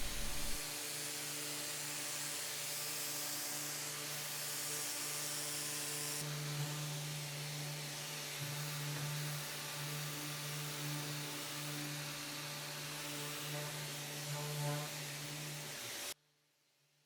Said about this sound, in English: Here I'm just sanding all the spackle as well as the primer with a, I think, 280 grit on a surf prep.